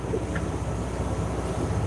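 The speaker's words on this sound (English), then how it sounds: "You can probably hear the water sloshing around in the background." Water sloshing against the hull of a sailing boat at night on the open ocean between Vanuatu and the Solomon Islands, a continuous low rushing wash mixed with wind noise, steady and fairly loud.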